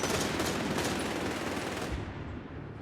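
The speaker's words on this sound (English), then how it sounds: "Holy smokes, is this guy firing fast." Heavy machine gun in Company of Heroes 3 firing rapidly in a dense, continuous burst that fades out at the end.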